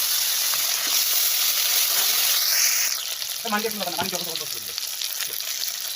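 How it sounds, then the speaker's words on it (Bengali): Fish frying in a wok gives a bright, loud sizzle for a few seconds, then settles to a softer hiss while a voice briefly speaks over it. "এখানে মাছ কয়টা ভাজা হয়ে গেছে আর্ধেকটাই ভাজা হয়ে গেছে"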